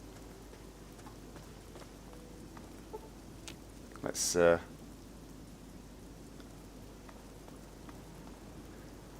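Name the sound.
light rain in the video game Fallout 3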